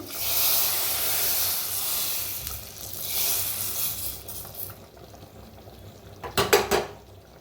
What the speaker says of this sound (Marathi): आता ह्याच्यावर गरम गरम फोड ओतूया आपण